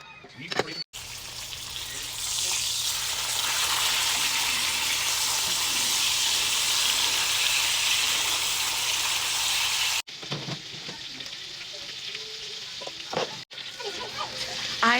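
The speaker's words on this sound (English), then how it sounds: "use a generous amount of butter, and start frying your ham steaks." Ham steaks fry in a generous amount of butter in a cast iron pan, giving a steady, loud, hissing sizzle that drops out briefly twice, with faint kitchen clatter near the end.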